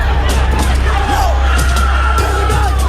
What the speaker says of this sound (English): I think you might hear somebody even scream, he has a gun.